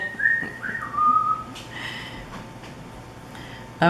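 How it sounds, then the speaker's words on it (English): A man whistles a tune indoors, bright clear notes sliding up and down over the first couple of seconds and then fading, with light rustling in the room and a brief loud sound at the end. "I'm sure you can tell by the whistling that the hubby's back."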